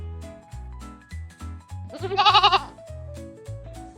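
A goat bleats once, loud and wavering, over a bouncy background melody that carries on before and after the call.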